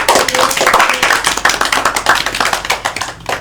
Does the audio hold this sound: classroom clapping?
yes